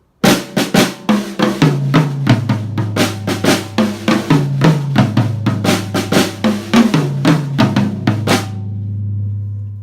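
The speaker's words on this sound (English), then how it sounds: "So I'm not changing anything except for relocating to the tom-toms." Drum fill in an Afro-Caribbean fusion groove with cascara and rumba clave, moved from the snare onto the tom-toms: a dense run of rapid, loud, close strikes with pitched tom thuds for about nine seconds, ending in a ringing decay.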